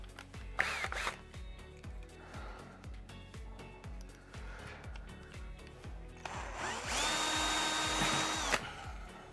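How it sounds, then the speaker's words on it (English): A power drill with a 7/64 bit drilling out a rivet on a PC case whirs in steady pulses, then runs continuously at a higher, louder whine near the end before stopping. "get a drill bit that'll just drill out the center of that rivet"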